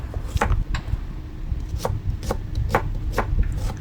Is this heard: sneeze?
no